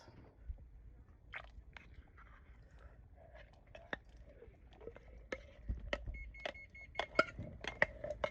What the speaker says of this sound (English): Gotta love the oven timer.